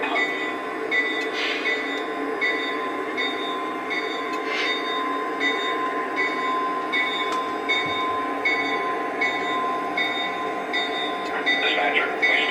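Train engines move out toward the main line with a continuous rumbling rail drone, metallic squeals and clicking wheel noise, and radio chatter from a dispatcher heard intermittently.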